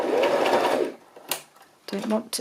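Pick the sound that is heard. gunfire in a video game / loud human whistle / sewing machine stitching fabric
sewing machine stitching fabric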